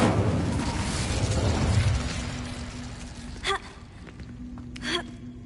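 A fire spell cast in the Hogwarts video game: a loud whooshing burst that fades over two seconds, followed by two short bright magical chimes, with no talk.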